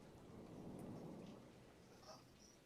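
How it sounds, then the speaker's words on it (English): Low, distant rumble of thunder rolling under steady rain, a continuous soft wash of rainfall with the thunder swelling and fading over a few seconds, no voices. "And there's a slight rumble of thunder in the distance"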